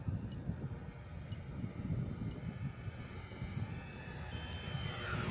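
A Dancing Wings Hobbies Fieseler Fi156 Storch RC model plane flies overhead, its small engine giving a steady, moderately loud drone with wind buffeting throughout, no voices.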